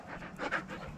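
Quiet, quick panting breaths from a dog nearby, a short soft burst of huffing.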